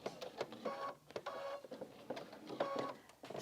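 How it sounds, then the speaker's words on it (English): A sewing machine stitches around a quilt edge with a quiet, rapid mechanical whirring and ticking that briefly slows and restarts, with no voices. "I'm just going to sew all the way around."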